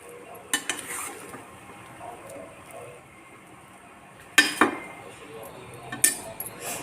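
A spoon stirs and scrapes semiya kichadi in a pan, with soft sizzling underneath and a few sharp metallic clinks against the pan, close and fairly quiet.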